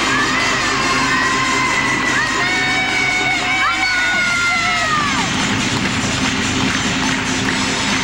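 Arena crowd at a men's figure skating short program in the 1995/96 Grand Prix Final cheering and roaring throughout, steady and loud, with shrill whistles and high shouts rising above the din.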